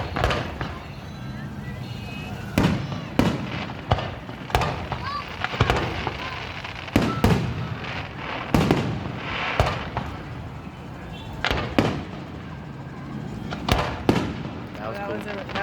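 Fireworks show in Exeter, California, with large aerial shells bursting in a string of sharp booms and crackling reports at uneven intervals, heard from a distance while people talk throughout.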